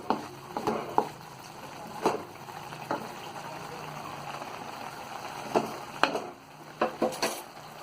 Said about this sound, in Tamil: இது நல்லா கொதிச்சிட்ருக்கு.